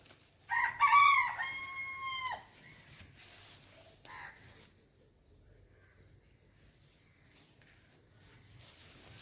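A rooster crows loudly and close by in a village yard, one long drawn-out call near the start, followed by a few faint clucks from chickens against quiet rural background.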